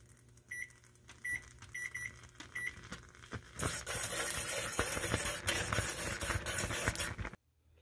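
Pectin and water at a full rolling boil on the stove, heard as a loud, dense bubbling hiss that follows a few quiet electronic beeps and then stops abruptly.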